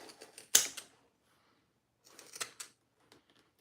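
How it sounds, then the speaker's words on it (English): Pinking shears snip through fabric in a sewing room, one sharp crunchy cut followed by a quieter cluster of snips, with faint handling noise in between. "I just used my pinking shears"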